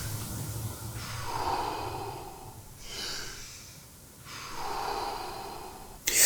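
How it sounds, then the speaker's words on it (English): Deep, slow Wim Hof-style breaths, long inhalations and exhalations drawn close to the microphone in a steady cycle, ending with a sharp rush of air, and no talking. "I'm very focused on the process of breathing, paying close attention to the inhalation and the exhalation"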